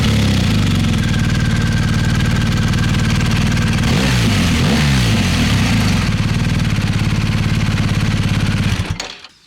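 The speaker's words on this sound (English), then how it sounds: "let's see if you can get the good sound out of the exhaust here" BMW R1250 GS Adventure motorbike engine running loud and close through its exhaust, steady idle thrum with a brief rev swell midway before it cuts off at the end.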